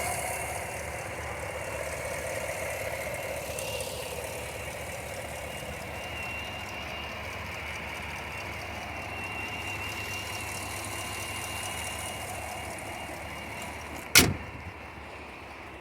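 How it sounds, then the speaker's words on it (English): A 2018 Cadillac Escalade ESV engine idles steadily and evenly for a long stretch, a low constant hum, with a sharp click near the end. "As you can hear, our engine's running just fine."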